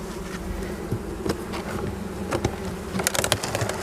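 Close, steady buzzing of many honeybees swarming around an open hive, with scattered louder passes and light tapping, no talking.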